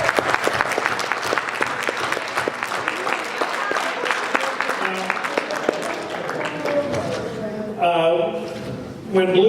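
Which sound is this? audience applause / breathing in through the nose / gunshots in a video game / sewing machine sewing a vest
audience applause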